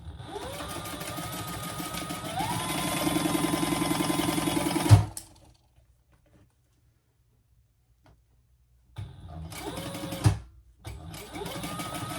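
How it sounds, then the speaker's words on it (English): A sewing machine stitching soft vinyl: a close, steady mechanical whir that runs for about five seconds, then silence, then a shorter second burst. "Don't over sew, especially this vinyl."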